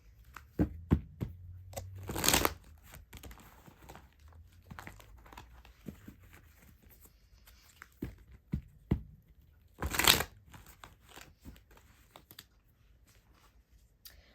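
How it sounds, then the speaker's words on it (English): Soft papery riffling and tapping of tarot cards being shuffled, in a few short bursts with quiet pauses between, close and fairly faint. "I'm going to do a quick shuffle"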